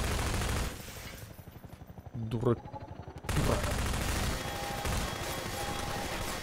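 Automatic gunfire from Half-Life 2, with sustained loud bursts and a rapid rhythmic volley in the middle, and someone talking over part of it.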